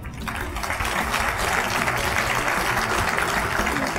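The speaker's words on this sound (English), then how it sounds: "So let's give Philip a big round of applause." Guests at a Justice Coalition award dinner in Jacksonville give sustained applause, a dense, steady clapping from a sizable crowd in a hall lasting several seconds.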